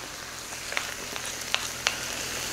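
Butter, vegetables and gochujang fry in a pan for kimchi fried rice, giving a steady close sizzle with a few sharp pops and crackles over the top, with no voices.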